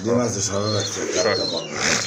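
White Danish and Bombay pigeons coo in soft, repeated throaty phrases nearby, with people chatting alongside.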